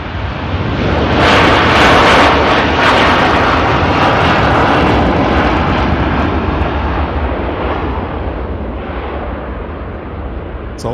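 A Hainan Airlines airliner at Manchester Airport roars past, a loud broadband jet rumble that overloads the microphone, holding steady for several seconds before slowly fading.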